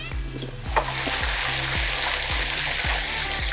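Chorizo frying in a pan with onion, garlic, cracked pepper, paprika and chili at medium-high heat, a loud steady sizzle broken by regular soft knocks of stirring about every half second.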